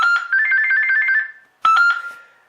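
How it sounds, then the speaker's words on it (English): A cheap off-brand mobile phone from a thrift store plays its electronic ringtone loud and close, a rapid warbling melody that stops, then restarts with a second short burst fading out. "as you can hear from the ringer tones"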